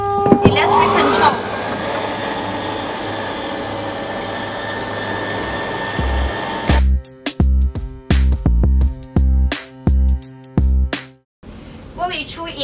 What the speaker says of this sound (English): It will be slide out slowly as I push the electric control.